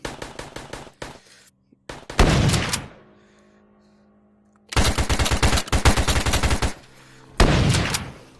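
Bursts of gunfire from a zombie survival video game, a few dense blasts followed by longer rapid strings of shots, loud and close, with brief quiet gaps between volleys.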